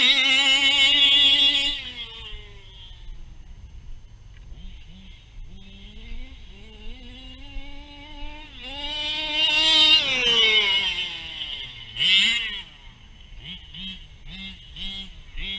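An OBR Signature Series race engine with a 1242 carburetor and power stack revs in rising and falling harmonic sweeps, climbing to a loud, high-pitched full-throttle scream before dropping back, with several sharp blips near the end.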